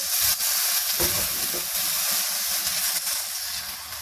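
Chicken, potato, tomato and onion fry in a pan, making a loud, steady sizzle and hiss with occasional stirring scrapes and knocks close by.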